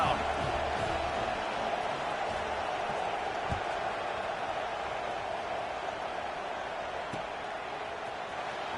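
A football stadium crowd at a Colorado game around kickoff makes a steady, distant wash of murmuring and low roar with no distinct cheers, under occasional commentary.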